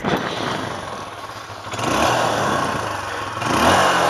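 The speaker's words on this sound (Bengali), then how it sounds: "আমি এই গাড়িটার সাউন্ডটা আপনাদেরকে একটু শোনাই" A motorcycle engine starts and idles close by, then swells in two short revs, with a little mechanical clatter and no talking.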